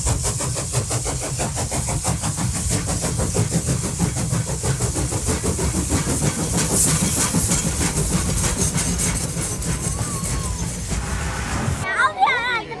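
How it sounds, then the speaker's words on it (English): Interior of the Hong Kong Peak Tram climbing uphill, with a steady rumbling drone of wheels and motor and a rhythmic clatter on the rails, loud and continuous, with a voice briefly heard near the end. "So now we are in the tram"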